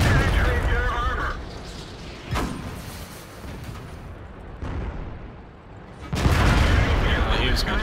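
World of Tanks gameplay: a few booming tank gun shots spaced several seconds apart, each a sharp blast that rings out over a constant rumbling engine and battle din.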